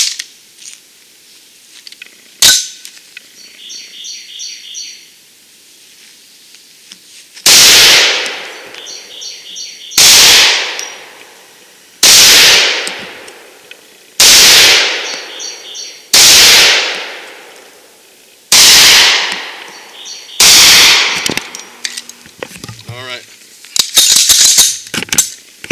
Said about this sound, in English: I'm gonna just put some 7 rounds on target